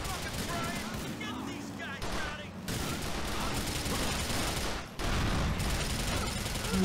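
Gunfire in a GTA IV The Lost and Damned shootout: dense, rapid bursts of shots crackle almost without pause, loud and continuous with short gaps, and a voice talks over part of it.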